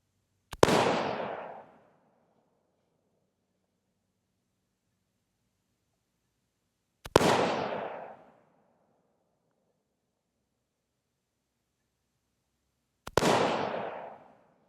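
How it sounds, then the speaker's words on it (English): Three sharp, loud rifle shots from a Savage MSR 10 Hunter in 6.5 Creedmoor firing 140-grain open tip match range ammo, spaced about six seconds apart, each followed by a short decaying echo, with silence between. "Now I'm going to be shooting the American Eagle range ammo first"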